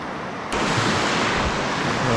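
Sea swell and surf roll on a UK shingle beach in the rain, a sudden loud wash of broadband noise swelling in after a quiet half second and holding steady, close and rushing, with no talk.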